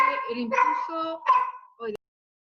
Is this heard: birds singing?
no